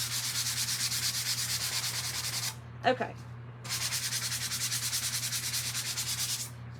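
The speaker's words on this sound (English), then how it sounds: "So just sanding in just a little." A wooden door tag being hand-sanded with steady back-and-forth rasping strokes, close and fairly loud, with a short pause in the middle where a voice briefly speaks before the rhythmic sanding resumes.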